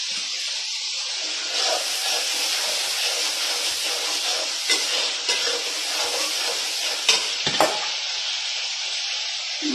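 Fish frying in a pan with ginger, garlic and spices, a steady close, loud sizzle and hiss throughout with a few sharp spatters and crackles near the end, no voices.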